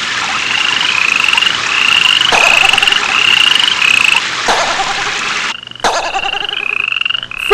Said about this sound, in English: several frogs appeared in the pond.